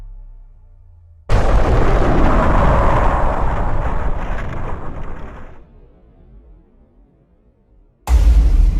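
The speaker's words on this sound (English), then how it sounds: "There was an explosion" A loud explosion bursts in abruptly after a quiet start, then roars and rumbles as it slowly decays over several seconds before dying away, with another sharp blast hitting at the very end.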